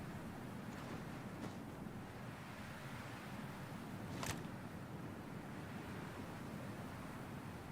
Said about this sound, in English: Yeah, you can hear it. It is windy as hell,